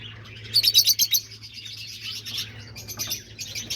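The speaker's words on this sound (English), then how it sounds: "there they are, all the little peach face lovebirds" Peach-faced lovebirds chirping up close, a quick burst of sharp bright tweets followed by softer scattered calls over a low steady hum, no talking.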